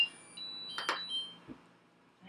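A kitchen oven timer beeps with a steady high electronic tone, heard fairly clearly in a quiet kitchen during sourdough bread baking at 425 degrees, along with a couple of short clatters nearby.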